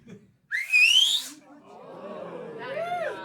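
Audience members at a comedy show let out a sharp rising whistle, followed by softer wavering whistles and murmuring voices from the crowd.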